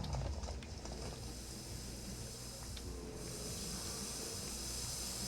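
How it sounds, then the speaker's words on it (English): A continuous broadband hiss like steady sizzling in the video game FantasyRpg, loud and unchanging, with a few faint mechanical clicks over it. "That's pretty loud. You can just hear it sizzling infinitely."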